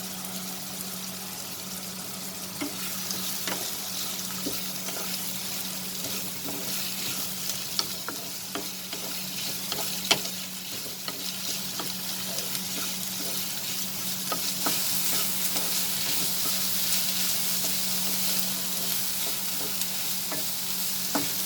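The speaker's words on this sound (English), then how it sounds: "Let us fry these onions till it gets slightly cooked and it changes its color" Onions and dried red chilies fry in a pan with a steady close sizzle, broken by repeated scraping clicks of a spoon stirring through the oil.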